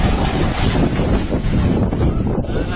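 Strong whirlwind gusts roar and buffet the microphone at an outdoor fishing pond, a loud, continuous rushing with no voices.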